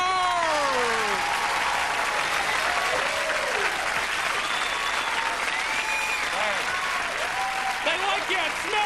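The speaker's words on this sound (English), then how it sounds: "please give a huge round of clap for Mr. Penn and Mr. Dollar!" A studio audience applauds Penn and Teller with a full, continuous roar of clapping and some cheering, while an announcer's voice carries over the top throughout.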